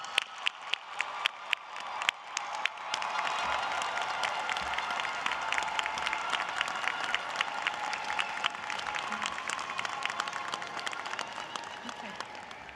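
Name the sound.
graduation audience applauding associate degree candidates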